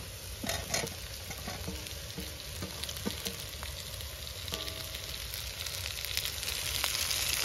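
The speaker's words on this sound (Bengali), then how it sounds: "এখন ডালটা ভেজে নেই তো" Lentils (dal) frying with vegetables in a pan: a continuous close sizzle broken by scattered sharp scrapes and taps of stirring, with no talking.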